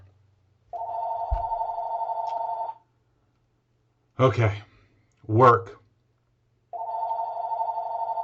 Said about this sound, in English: I got the phone ringing now.